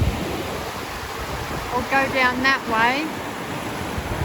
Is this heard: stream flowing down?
yes